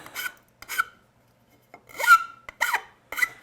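A hand file rasps across an aluminum edge in several short, close strokes, separated by brief pauses, with nothing else audible.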